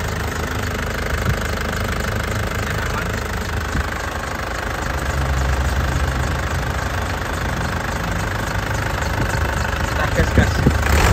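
A 2003 Isuzu Panther engine idling, a steady, close mechanical chatter and vibration that holds evenly for the whole stretch with no changes in pace.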